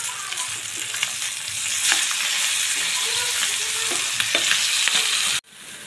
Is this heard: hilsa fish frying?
yes